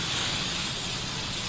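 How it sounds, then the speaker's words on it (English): Holding hair spray hisses from an aerosol can in one steady, continuous blast while a barber styles hair, loud and close with no pauses. "Now spray a little holding spray"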